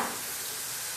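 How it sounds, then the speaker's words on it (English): Steak searing in hot oil gives off a steady, close sizzling hiss for about a second, with no speech over it. "Give it a nice little sizzle too, right?"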